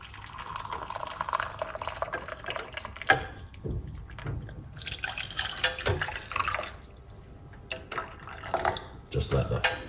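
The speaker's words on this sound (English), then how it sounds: "we're going to put hot water" Hot water splashes and trickles in uneven bursts while being poured over ginger and purple onion, with a person talking intermittently over it.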